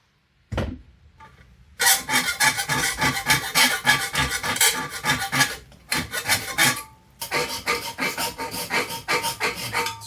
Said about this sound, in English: Sand this edge